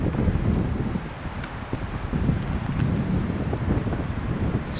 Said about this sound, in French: Les arbres, tu les entends.